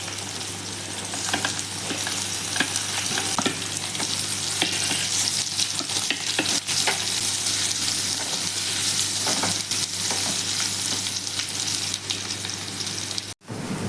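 Bitter gourd sautés in a pan with curry leaves and coriander, a continuous close crackling sizzle with occasional stirring scrapes, steady and loud throughout.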